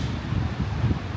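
Strong, cold wind gusts steadily across a campsite in Bokod, Benguet, a continuous low roaring rush with mic buffeting, no talk.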